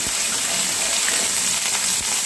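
Ginger fries in hot oil with black cumin, giving a steady, dense sizzling hiss that runs unbroken throughout.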